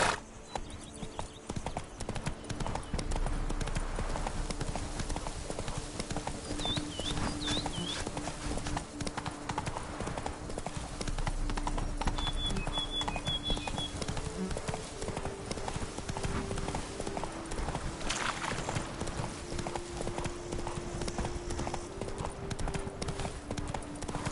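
Hooves of the horse Roach clip-clop steadily through The Witcher 3 video game, a continuous galloping rhythm with a faint whinny, alone with no talking over it.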